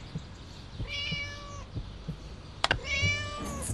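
A cat in the Scary Teacher 3D Halloween update lets out two drawn-out meows, the second sharper and louder, over quiet game ambience with no talking.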